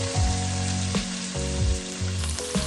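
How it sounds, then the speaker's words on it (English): Loud, close sizzling of bacon frying in its own fat in a hot Caraway pan, continuous and crackling with a few sharper spits along the way. "I love the sound of the sizzle in it"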